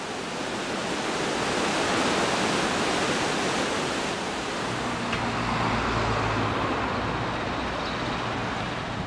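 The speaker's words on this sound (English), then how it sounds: "Right behind my hotel is this like raging river." A raging river in Andorra rushes past, a loud, steady broadband roar of churning whitewater with faint low traffic hum joining partway through.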